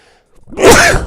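A single sharp sneeze straight into a microphone during a gaming session, starting with a quick inhale and ending in a loud, close burst.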